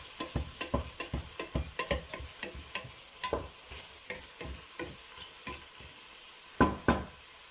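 Chorizo frying in a pan, a steady sizzle under a run of sharp, rhythmic scraping strokes from stirring, close up and fairly quiet, with two louder knocks near the end and no voices.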